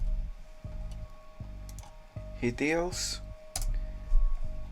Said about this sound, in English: what I'm going to do here is type in Hades